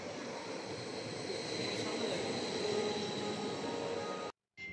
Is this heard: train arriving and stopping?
yes